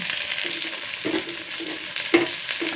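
Tomatoes tumbling into a pan of sautéing onion, garlic, ginger and pepper bring a steady sizzle and several soft stirring scrapes, close and moderately loud, with no talk.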